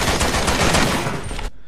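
Sustained automatic fire from the ARFST assault rifle (Assault Rifle for Special Tactics) in Resident Evil 6, a dense unbroken burst of loud rapid shots that stops abruptly near the end, with no voices.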